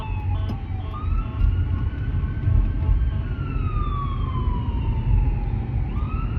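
An ambulance siren wails steadily from behind a car on the road, its rising and falling tone sliding downward as it nears, heard over continuous low traffic and engine rumble.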